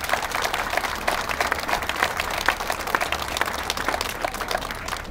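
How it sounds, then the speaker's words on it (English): Steady, dense applause from an audience at a VIA bus service press conference, a continuous patter of many hands clapping at moderate volume for about five seconds. "I want you all to give yourselves a round of applause"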